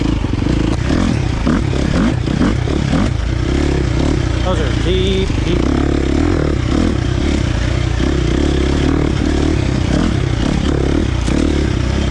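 KTM 350 XC-F dirt bike with a Vortex ECU tune ridden slowly on tight single track, a steady low engine drone with clatter and scraping from the trail, under brief close talk from the rider.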